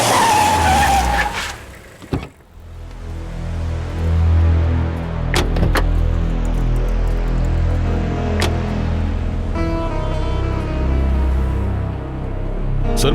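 A car overtakes at speed in an action film scene, its loud engine roaring close by alongside a brief screech of skidding tires and a few sharp impact sounds.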